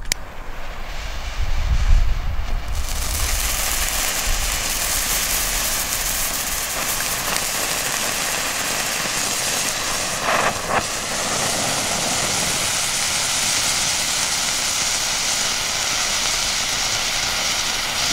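A youth-category firework fountain throwing bengal flames and gold sparks outdoors in snow, giving a steady, loud, broadband rushing hiss that lasts throughout after a brief low thump at the start.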